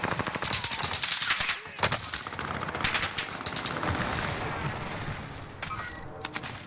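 Rapid automatic gunfire bursts rattle loudly in the Call of Duty video game, dense overlapping shots with booms, continuing for several seconds without talking.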